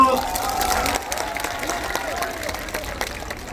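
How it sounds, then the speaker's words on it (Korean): Festival crowd at the Incheon Jeongseojin Hanmaeum festival clapping and cheering in a steady, dense wash of applause that sustains throughout, slightly louder at the start. "박수 한번 주세요."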